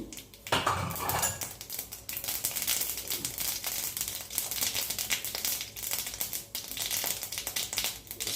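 Mustard seeds splutter and pop in hot oil in a kadai, a dense, continuous crackle of sharp sizzling bursts that stays close and loud throughout, with no voices.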